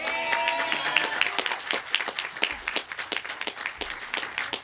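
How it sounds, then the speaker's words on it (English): A crowd at a ribbon-cutting event claps in a lively round of applause with sharp, distinct hand claps. A voice is briefly heard at the start. "big round of applause for my COO and partner"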